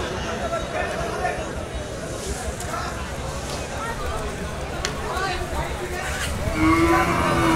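Cattle lowing at a busy cow market in Bogura, Bangladesh, with moos rising over a steady crowd babble and market hubbub, one louder, closer call near the end.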